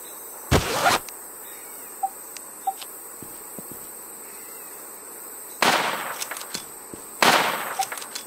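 Gunshots in The War Z PvP gameplay, three sharp distant cracks spaced apart over quiet ambient insect-like noise, with a few faint clicks between.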